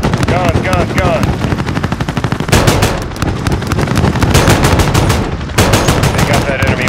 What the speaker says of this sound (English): Here comes gun run. Guns, guns, guns.